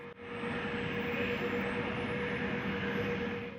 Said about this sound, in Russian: Самолет идет на посадку.